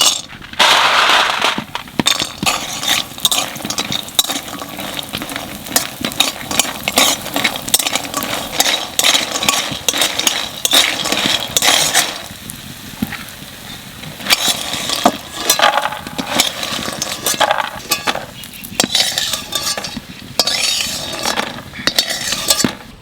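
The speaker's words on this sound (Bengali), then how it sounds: "প্রথমে ডালের বড়িটাকে একটু ভেজে নেব" Dal bori, lentil dumplings, frying in hot oil, a loud, dense crackling and spattering sizzle that runs continuously, broken by sharp pops and the clatter of a utensil stirring in the pan.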